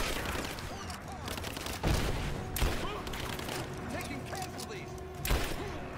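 Sustained gunfire from Rise of the Tomb Raider keeps up in the background, steady bursts with a few heavier thumps, mixed under ongoing game sounds while voices talk.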